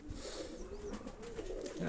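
Pigeons coo softly overhead outdoors in Mykolaiv, a low murmuring run of calls alongside steady wind noise and faint background sound, with no clear talk.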